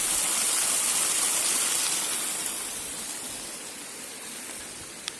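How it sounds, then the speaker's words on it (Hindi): A small waterfall at a picnic spot pours down in a steady, dense rush of falling water, close and continuous, easing slightly toward the end. "यहाँ पे बहुत सारा पानी नीचे गिर रहा है"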